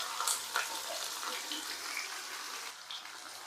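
Chopped onion hits a hot cumin and dried red chilli tempering, giving a bright, hissing sizzle that stays loud and even throughout, close up and without speech.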